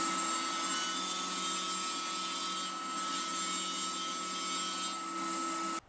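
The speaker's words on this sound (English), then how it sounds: "I'm going to use a mixture of the track saw and table saw just to get this cut down." A track saw or table saw cuts through particle board for a countertop, a loud, steady whining buzz that holds for the whole stretch and stops abruptly at the end.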